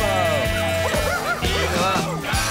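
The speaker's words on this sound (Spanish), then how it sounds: "qué cantidad de perros tienes aquí, ¿no?" A pack of dogs in foggy Newfoundland bark, yip and whimper together in overlapping bursts, fairly close, with a voice speaking among them.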